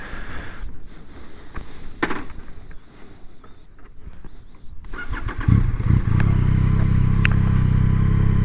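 A Ducati 848 motorcycle engine cranks and fires into a deep, loud idle partway through, preceded by clicks and handling noise, close by.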